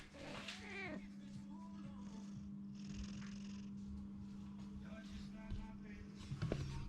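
A cat purrs softly up close while lying on a BMW 645i V8 car, with a low rhythmic rumble, joined by occasional creaks and faint shuffling noises.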